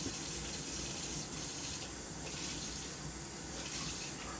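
Water runs steadily from a tap, a continuous close hiss and splash with slight swells in intensity and no voices over it.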